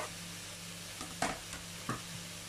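Garlic hits a hot frying pan with a soft, quiet sizzle, with light stirring clicks and a couple of sharp utensil taps against the pan over a low steady hum.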